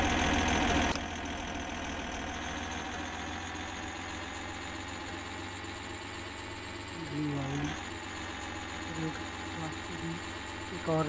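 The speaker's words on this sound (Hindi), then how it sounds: "भाई, कितने स्पीड में जा रहे हैं अपना ट्रैक्टर।" A tractor engine idles and runs steadily in an Indian tractor cargo driving simulator game, a continuous mechanical drone with a brief change partway through, while someone talks over it.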